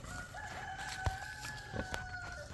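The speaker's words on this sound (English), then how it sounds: "Rooster just said y'all come back." A rooster crows outdoors on a hog farm on a sunny day, its drawn-out call clear at moderate distance over soft background rustling and a few clucks, with no speech.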